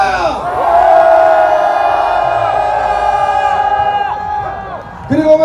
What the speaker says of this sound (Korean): 이 주장에 동의하시면 3초간 함성